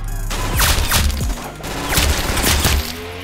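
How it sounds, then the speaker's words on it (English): A rapid burst of loud, close musket gunshots in the Roblox game Arsenal, several sharp cracks fired one after another with a thumping, crashing quality. "Oh, musket! We got four shots!"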